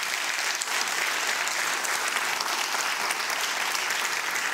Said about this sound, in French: Alors je tiens à ce qu'on les applaudisse bien fort ce soir,